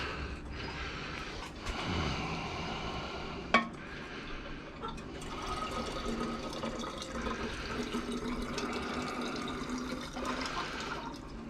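Water rinses over powdered gold recovered from computer RAM and BGA chips, a running, trickling wash with splashes and drips, a sharp clink partway through, and a steady flow continuing to the end.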